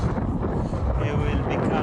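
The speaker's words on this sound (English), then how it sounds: "It's windy and it's coldish too." Wind gusting outdoors in Masurian Poland, a steady broadband rush with low buffeting rumble on the microphone throughout, loud and continuous with no clear speech.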